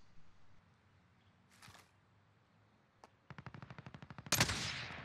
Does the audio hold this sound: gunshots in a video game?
yes